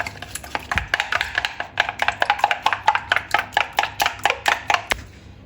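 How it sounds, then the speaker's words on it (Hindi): Three eggs being beaten by hand in a bowl, a fast, steady run of sharp close-up clicks and taps of the whisk against the bowl, with no talking. "तीन मैंने अंडे लिए हैं। अब अच्छी तरह इनको फेंट लेंगे।"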